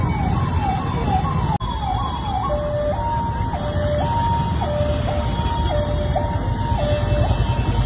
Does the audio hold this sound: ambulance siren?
yes